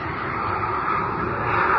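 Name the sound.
pogo plane aircraft gliding, comic audio drama effect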